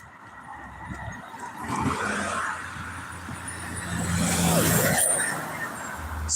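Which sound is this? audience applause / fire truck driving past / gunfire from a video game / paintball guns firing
fire truck driving past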